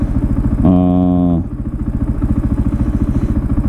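Supermoto motorcycle engine while riding, a steady pulsing exhaust drone with a brief high-revving whine that rises and then settles back into a rhythmic throb, loud and close.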